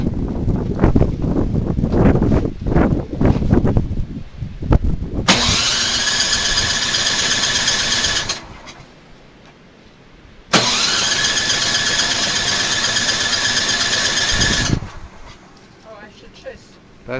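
A car engine cranks and starts during a winter snowstorm, then runs at a loud, steady idle, cuts out briefly, and restarts, idling again for several seconds; voices and outdoor noise are heard before the first start.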